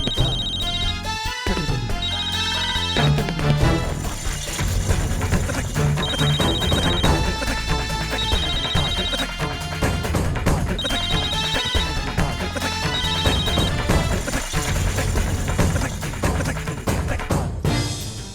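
A phone ringtone plays loud and continuously, a repeating electronic melody that keeps going without pause for the whole stretch.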